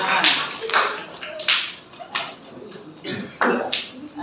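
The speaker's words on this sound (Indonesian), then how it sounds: "Ulang, tepuk tangan." A school class in Jakarta clapping hands again, several separate bursts of group applause rising and fading in an uneven rhythm, with talking among the claps.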